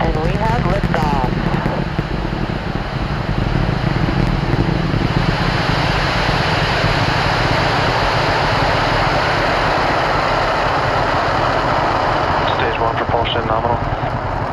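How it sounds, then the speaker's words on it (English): SpaceX rocket lifting off in Florida, a loud, continuous broadband roar that fills the whole clip with deep rumble and crackle, steady and unbroken from start to finish. "Ignition. And we have liftoff."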